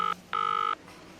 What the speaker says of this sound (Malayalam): അവിടെ നിന്ന് മാറി ആരെയോ ഫോൺ ചെയ്തു